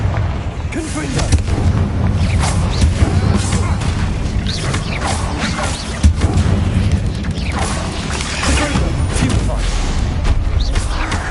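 Repeated blasts of the Confringo fire spell in the video game Hogwarts Legacy produce booming, crashing impacts with rumbling debris. Voices speak throughout, over constant action noise.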